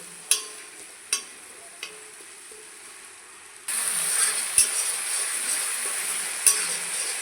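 Spice paste frying in oil in a pan: a few sharp clinks and scrapes over a quiet background, then a steady loud sizzle as it hits the oil, with occasional stirring knocks.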